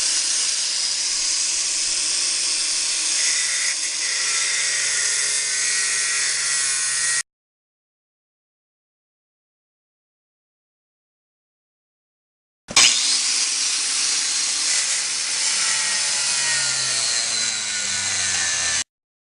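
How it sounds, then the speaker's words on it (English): A power saw grinds steadily through a corroded leaf spring in two loud, harsh, hissing cutting passes separated by a silent gap. "It took a couple of cuts to get the spring off"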